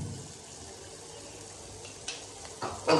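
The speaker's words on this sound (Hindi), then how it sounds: "हम हरी मिर्च का पेस्ट ऐड करेंगे" Green chili paste frying in hot oil gives a low, steady sizzle that is fairly quiet, with a few brief stirring scrapes and a louder burst near the end.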